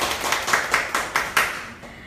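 A short burst of hand clapping from a small group at a workshop, with several sharp louder claps standing out before it fades.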